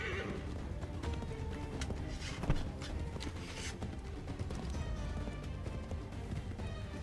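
A horse gallops in Assassin's Creed 3 with quick, continuous hoofbeats and whinnies amid game sounds and effects, moderately loud throughout.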